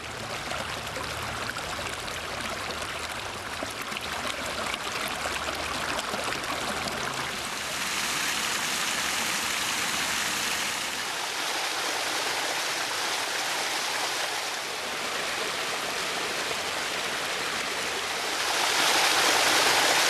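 A mountain waterfall and stream swollen with cold spring snowmelt pour in a steady, dense rush of white water, loud and close, with no voices and the roar surging slightly stronger toward the end.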